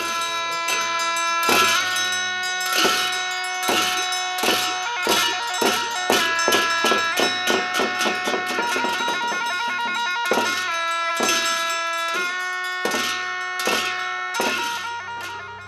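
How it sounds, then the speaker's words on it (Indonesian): A ceremonial bell rings at a Waisak celebration in 2005: loud, resonant metallic strikes repeat in a steady rhythm, sometimes quickening into rapid clusters, and each ringing tone sustains between blows, with no talk. "Dan ketika lonceng berbunyi, kami tahu bahwa detik-detik Waisak Agung akan segera tiba."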